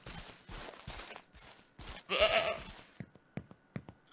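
Goats bleat in the ranch farming game Ranch Simulator, one loud bleat up front followed by a cluster of short, sharp animal calls near the end, over quiet farmyard background.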